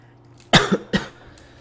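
A man at his computer breaks into a coughing fit, two sharp, close coughs in quick succession followed by a faint throat sound.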